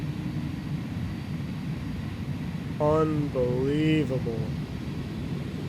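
Steady roar of Airbus A310 thrust reversers after touchdown in X-Plane, a broad rumbling engine wash held throughout, with someone speaking briefly over it midway.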